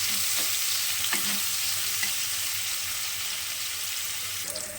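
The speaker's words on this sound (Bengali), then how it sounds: "এবার পেঁয়াজটাকে একটু হালকা লাল করে ভাজবো" Onions frying in a pan for a Bengali jackfruit and prawn curry, a steady close sizzle with a few scraping stirs of the spatula throughout, no voices.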